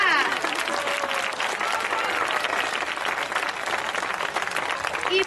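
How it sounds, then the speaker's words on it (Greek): An audience at a Greek tradition performance gives the children loud, continuous applause, a dense steady clatter of many hands with faint voices mixed in throughout. "Ένα δυνατό χειροκρότημα!"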